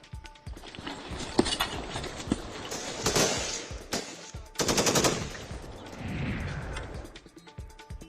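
Rapid bursts of automatic gunfire rattle out along the Line of Control between India and Pakistan, two main volleys with scattered single shots between, sharp and somewhat distant, with no speech.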